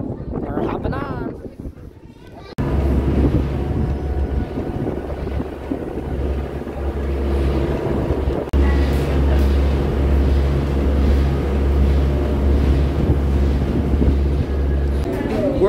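A steady low engine drone of a boat underway at Walt Disney World Resort, with wind buffeting the microphone and a few voices talking faintly at first.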